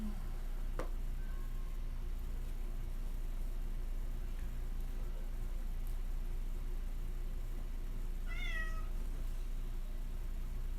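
A cat meows indoors: one short, faint meow early, then a clearer rising-and-falling meow near the end, both quiet over a steady low hum.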